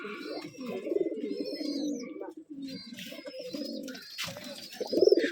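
Pigeons, including desi birds, coo in soft, repeated throaty rolls inside a clean loft on a Rajshahi girebaj pigeon farm, with several overlapping calls close by and faint background voices.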